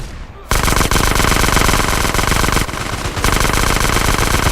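Sustained rapid automatic gunfire in the video game GTA, loud and continuous after a short quiet start, with a brief dip before the firing resumes.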